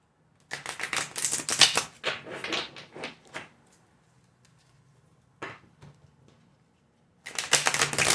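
Tarot cards are shuffled in quick riffling bursts, close and crisp, coming in a few separate rounds with pauses between them.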